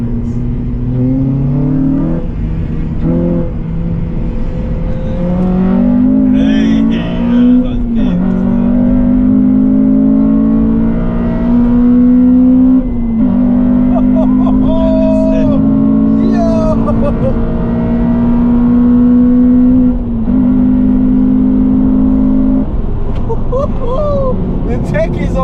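A Honda Civic Type R FN2 with an HKS intake and Tegiwa exhaust drives around the block, its engine droning steadily and rising in pitch under acceleration, loud and close from inside the cabin.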